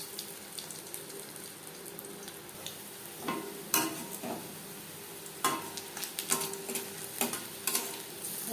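Pakora batter dropped into hot oil, sizzling steadily with sharp crackling bursts and stirring scrapes that grow busier as more pieces go in; no voices.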